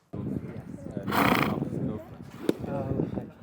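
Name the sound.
horse neighing during polo match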